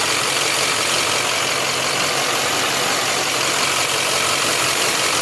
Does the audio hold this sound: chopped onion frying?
no